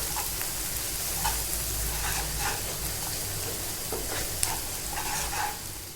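A spoon stirs coriander powder, cumin powder, turmeric and salt, then finely grated cabbage, in a hot pan for cabbage paratha, giving a steady sizzle with scattered scraping strokes and no voices.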